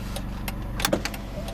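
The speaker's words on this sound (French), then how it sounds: "toutes les vitres de cette voiture sont entièrement automatiques" An automatic power window on a 2002 Mercedes-Benz E220 CDI W210 runs with a low electric motor hum, punctuated by a few sharp clicks and knocks as the glass moves, heard close inside the car.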